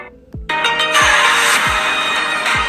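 A ringtone plays loudly through the speakers of a Samsung Galaxy Note 20 Ultra, a bright repeating melodic tone close to the phone with low rhythmic pulses under it.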